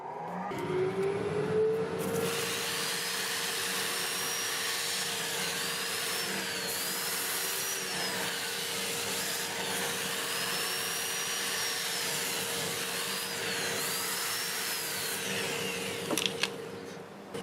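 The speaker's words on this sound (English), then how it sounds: "start with 120 grit, sand it up to 400. This time the lathe runs forward at about 480" Wood lathe spinning forward at about 480 rpm while olive wood is sanded with 120 to 400 grit paper, a steady whirring hum with continuous abrasive hiss and faint rhythmic rubbing, close and constant throughout.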